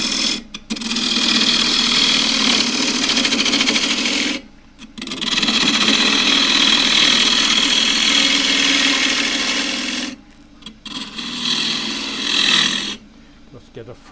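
A wood lathe spins an 8-inch camphor laurel blank at about 1400 rpm, giving a loud, steady whirring hum that cuts out briefly three times before starting up again.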